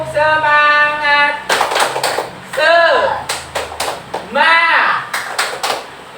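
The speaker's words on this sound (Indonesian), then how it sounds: "Tepuk semangat." A group does a rhythmic spirit clap at an ice-breaking session, bursts of sharp claps in patterned clusters alternating with chanted voices.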